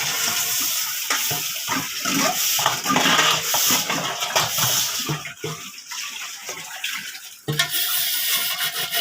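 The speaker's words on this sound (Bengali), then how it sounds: "এখানে ট্যাপ আছে তো তার জন্য এখানে ধোয়া হয়ে যাচ্ছে" Water gushing from an outdoor tap during washing, a continuous loud splashing rush with clattering surges, heard close throughout.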